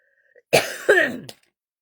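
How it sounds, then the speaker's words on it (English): Two harsh coughs in quick succession, close and fairly loud, followed by a brief catch of breath. "Excuse me, I'm going to cough."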